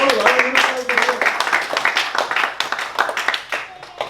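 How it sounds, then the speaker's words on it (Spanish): Men in a church congregation break into loud applause to God, dense hand clapping close by with a voice speaking over the start before the clapping carries on alone. "Todos los varones, un aplauso a Dios"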